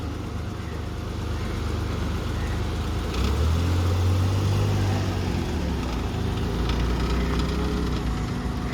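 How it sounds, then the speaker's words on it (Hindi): A car pulls away and drives off down a road beside a water hand pump, its low engine rumble swelling midway and then holding steady at moderate distance, with no talk. "यहाँ से नीचे गाड़ी चली जाएगी"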